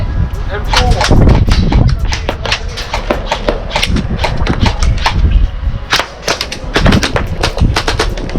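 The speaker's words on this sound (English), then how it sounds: "I got guys shooting back." Airsoft guns fire in rapid, rattling bursts during an outdoor airsoft game, close and loud, with players shouting and talking over the shots throughout.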